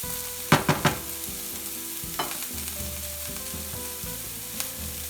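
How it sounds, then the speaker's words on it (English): Food sizzles steadily in a hot pan, broken by a few sharp stirring clatters and scrapes near the start and middle, moderately quiet and close, with no talking. "Couple more stirs. Make sure that everything is contacting the bottom of the pan where all the heat is."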